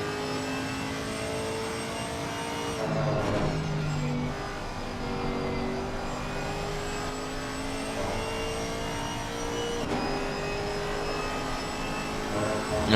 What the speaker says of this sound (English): is there any negative about the Camaro V8? Absolutely not. It's an amazing engine.